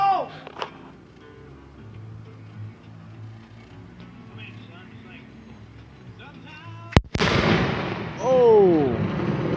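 Fireworks are set off with a sharp, loud explosive bang partway through, followed by crackling and whistling bursts, after quieter background noise and people talking nearby.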